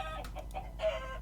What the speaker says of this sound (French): on va abréger ses souffrances à ce pauvre poulet